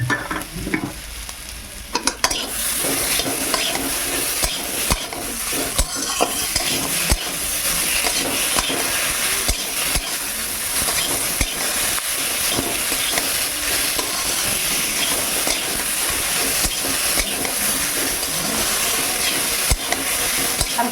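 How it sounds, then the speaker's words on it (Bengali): Cumin paste frying with vegetables in a pan, a steady loud sizzle and hiss with occasional stirring clatter throughout, no talk. "জিরেটা ভেজে নিয়েছি"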